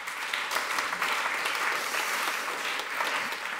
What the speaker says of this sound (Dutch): geef een heel hartelijk applaus